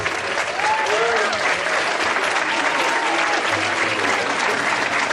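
An audience at a school event in Tultepec applauds to thank the teachers, with loud, sustained clapping throughout and crowd noise and faint voices mixed in.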